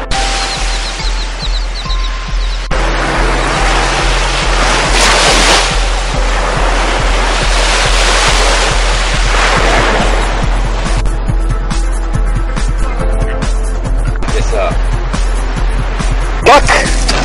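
Ocean surf rolls in at the Pompano Beach fishing pier, a loud, continuous wash of breaking waves with gusty wind noise on the microphone.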